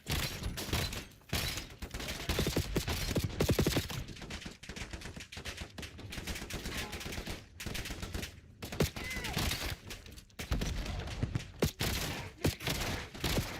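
Gunfire in the video game Black Ops 7, dense bursts of rapid automatic shots and single cracks crowding close together, with short pauses, loud against faint game sounds.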